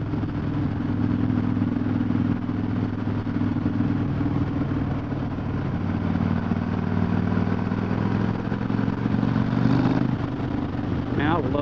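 Harley-Davidson motorcycle cruising a Kentucky back road, a loud steady low engine rumble with wind noise throughout, heard from the rider's position, engine note shifting slightly near the end.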